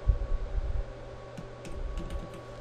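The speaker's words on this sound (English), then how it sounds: "you can use the keyboard shortcut Control Alt and one of the arrow keys" A few soft, scattered keypresses on a computer keyboard, shortcut keys used while editing in Photoshop. The taps are faint and spaced apart over a low background hum.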